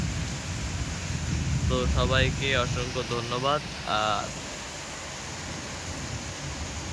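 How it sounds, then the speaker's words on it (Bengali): Heavy, windless rain falling during a thunderstorm in Jessore: a steady, dense hiss throughout, with someone talking over it for a few seconds in the middle. "মানে নিঝুমে বৃষ্টি পড়ছে, আর বিদ্যুৎ চমকাইতেছে বহুত পরিমাণে"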